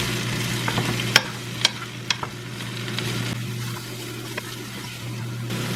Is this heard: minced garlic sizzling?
yes